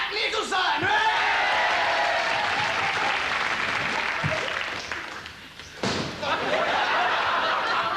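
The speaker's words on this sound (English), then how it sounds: "I just think he deserves a round of applause" A studio audience breaks into sustained applause for a comedy sketch, a dense, loud wash of clapping with a few whoops and laughs, dipping briefly near the end before swelling again.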